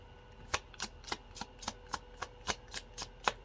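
Tarot cards are shuffled close up in a quick run of about a dozen crisp riffling flicks at an even rhythm, with no talking.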